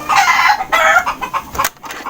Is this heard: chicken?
yes